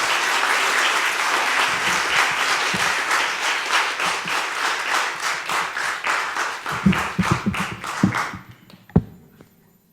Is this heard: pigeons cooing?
no